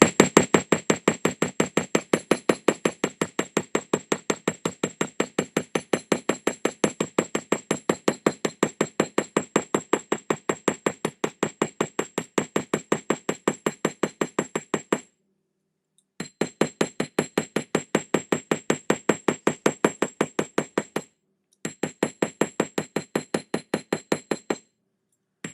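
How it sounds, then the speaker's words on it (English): A small rounded hammer taps metal stash work in a fast, even stream of sharp strikes, broken by two short pauses, close and clear with no talking. "let's hammer these with I'm going to do like a smaller rounded hammering"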